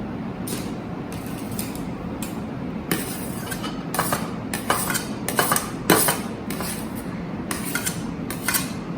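Capsicum pieces are tossed into a bowl and mixed for a vaal bean salad, giving a quick run of close clinks, knocks and rattling scrapes over a steady background rumble, with no talk.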